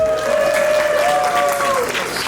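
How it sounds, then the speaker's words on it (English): Wedding guests applaud together in a hall, a dense wash of clapping with a brief tonal whine running over it and faint voices underneath. "give a round of applause for the amazing piece of art in the back"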